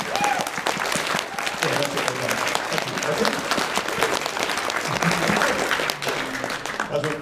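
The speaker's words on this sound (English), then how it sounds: "So can we have a round of applause?" Convention crowd at a Confuzzled 2016 furry hypnosis show breaks into loud, continuous applause and cheering while a nearby voice speaks briefly over the clapping.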